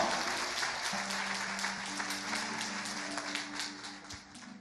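A church congregation applauding the Lord, dense sustained clapping from a large crowd, with a held musical tone entering partway through and the applause thinning slightly toward the end.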